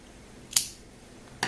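Scissors snip yarn tails on a crocheted newborn beanie, one crisp close cut followed by a second short snip a moment later, otherwise quiet.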